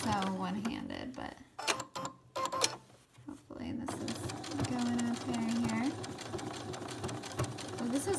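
A sewing machine stitches down a pocket on a pair of joggers in runs of rapid mechanical whirring, broken by short pauses and soft fabric handling, with a faint voice audible under the machine noise.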